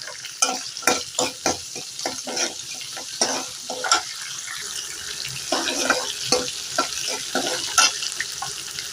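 Garlic and green chillies fry in a pan for radish sambar while a spoon stirs and scrapes in uneven bursts. Water runs from a tap for part of the time, and the oil gives a low sizzle underneath.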